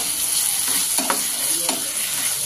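Tomato pieces frying in a pan with green chilies and ginger for methi egg curry, a steady close sizzle with a few quick stirring scrapes.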